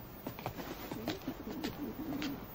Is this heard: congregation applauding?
no